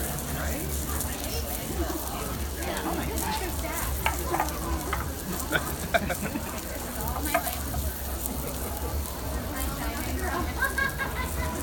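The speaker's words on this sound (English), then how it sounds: "meat on the grill. We're letting it get nice and caramelized, get some good flavor on there." Steak sizzling on a grill, a constant close frying hiss with faint crackles and pops running throughout, with no voices over it.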